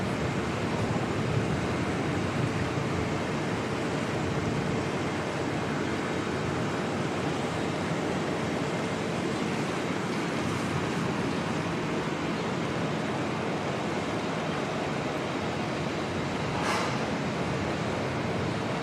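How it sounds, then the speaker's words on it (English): Strong wind at Auckland Airport roars steadily and loudly throughout, a dense, unbroken rush with no pauses. "See that wind's picked up quite a bit."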